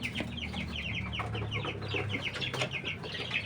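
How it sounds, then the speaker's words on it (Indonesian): Large black Bangkok-breed chickens cluck in a steady, overlapping chatter close by in their yard, with repeated short calls continuing throughout. "kelihatan ayam-ayamnya besar-besar, warnanya hitam-hitam, bercirikan dia jenis ayam Bangkok"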